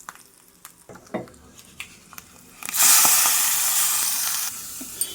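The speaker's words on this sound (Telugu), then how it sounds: "ఇప్పుడు పప్పు పులుసులో వేసేసుకుందాం పోపుని." Hot tempering poured into pappu pulusu dal bursts into loud hissing sizzle after a few light clinks and stirring taps, the sizzle swelling then slowly fading.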